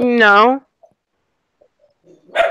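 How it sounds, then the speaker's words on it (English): A dog gives one loud, close bark-like yelp at the start, then a few faint noises and a brief burst of voice or yelp at the end, with music and chatter around it. "I hear a dog now."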